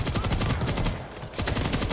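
Rapid machine gun fire in the zombie shooter video game World War Z, a dense, continuous burst of rattling shots that keeps going almost without pause, loud and close throughout.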